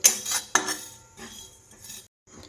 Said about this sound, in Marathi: तर आता आहे ना पहिल्यांदा ही खसखस भाजून घेते